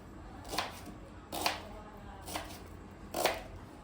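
Four sharp knife chops on a board, evenly spaced about a second apart, close and crisp against a quiet background.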